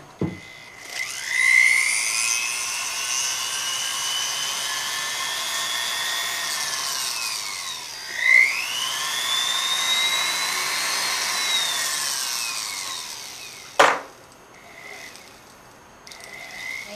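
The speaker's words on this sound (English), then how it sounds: "I'm just going to take this little burr tool that I told you about and put my ring shank, or my ear post, in the end like that" A small burr tool spins against the ends of silver ear posts, giving a steady high whirring whine that swoops up and down in pitch twice as the tool loads and eases, then cuts off with a sharp click.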